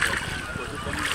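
A splash as someone cannonballs into lake water at a summer swimming spot, a continuous watery churn with voices close by.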